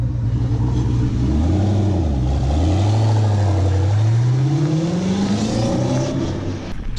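A Mercedes AMG car revs hard and drives off, its engine note rising and falling before climbing steadily in a loud, close, continuous roar with no talk.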